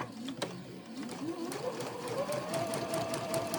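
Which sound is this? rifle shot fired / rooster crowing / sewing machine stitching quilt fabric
sewing machine stitching quilt fabric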